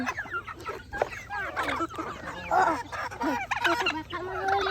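Laying hens clucking up close in a backyard flock, with busy, overlapping clucks and squawks throughout, a dog barking now and then, and faint voices in the background.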